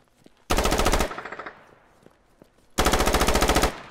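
Two long bursts of rapid automatic gunfire in the military shooter Squad, loud and close, separated by a gap with a fading run of slower single shots and faint distant pops.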